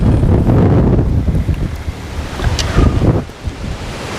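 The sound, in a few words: strong wind blowing outdoors on a fishing boat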